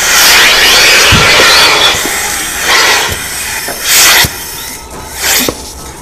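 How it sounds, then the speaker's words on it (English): A traditional milking unit being attached in a dairy parlor, giving a loud continuous hissing, rushing air noise with several sharper clunks and bursts of squealing suction, no talk. "Now, listen to a traditional unit attachment"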